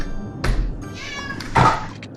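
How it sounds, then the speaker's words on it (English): A hungry house cat meows close by, two distinct meows separated by a pause, with a soft thunk beside them. "And my cat is hungry."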